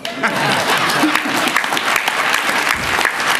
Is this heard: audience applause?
yes